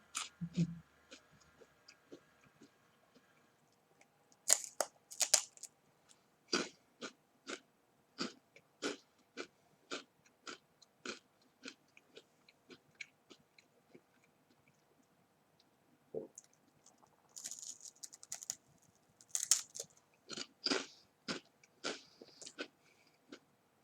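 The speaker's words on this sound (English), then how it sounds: "I am eating something. A grain cracker of some kind." Crunchy bites and chewing of a grain cracker, close and quiet, coming in irregular clusters of crisp clicks and crackles with brief pauses between them.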